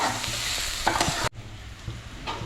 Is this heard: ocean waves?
no